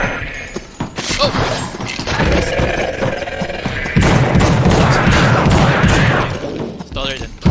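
Gunfire from enemies in The Suffering horror shooter game, a dense run of loud shots and booms lasting several seconds, mixed with brief exclamations.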